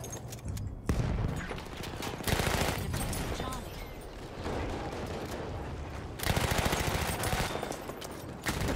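A fast-firing gun in Battlefield 1 gameplay lets off rapid automatic bursts, loud and close, with short pauses between volleys and a dense rattle of shots.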